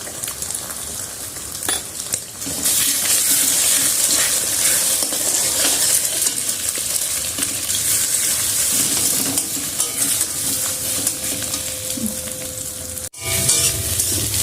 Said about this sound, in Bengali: সেই 6টা ডিম এখন ঝুরঝুরি করে ভেজে নেব